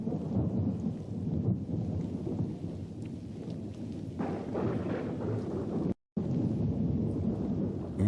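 Rain begins falling over the dry Karoo in a steady broadband wash with low rumbling beneath, like thunder in a storm, swelling slightly midway before a brief dropout, then continuing.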